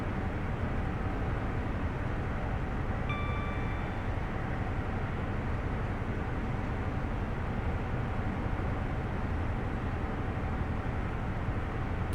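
An HST train running in a Train Simulator game, heard as a steady low rumble and hum of engine and wheels throughout, with a brief faint tonal whine early on and no talk.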